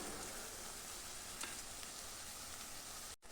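Onions with curry leaves sautéing in oil for brinjal poriyal, giving a steady, faint, even sizzle throughout with a couple of small ticks and no talking.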